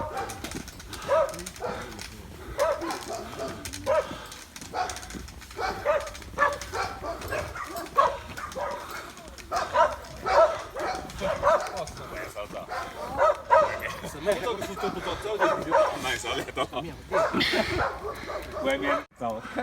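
A dog barks in a forest on a mountain hiking trail outside Kunming, giving intermittent short barks and yips under ongoing conversation among hikers, with faint bird calls nearby.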